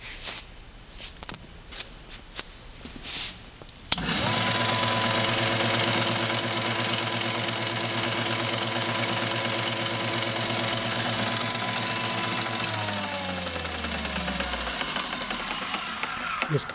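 An Iida Mini Forte chain-driven wood planer starts up after a few seconds of quiet clatter, then runs with a loud, steady motor hum and a whine that slows and drops in pitch near the end as it winds down.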